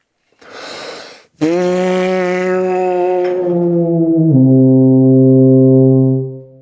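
A low brass instrument sounds a long sustained note after a short breathy buzz, then steps down to a lower held tone that fades out.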